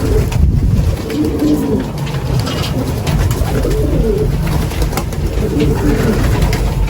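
Pigeons cooing close by in a loft with young birds, repeated soft low coos rising and falling in a steady rhythm over some background rustling.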